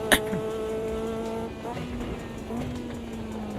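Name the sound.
race car engine in video game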